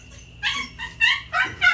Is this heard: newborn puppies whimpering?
yes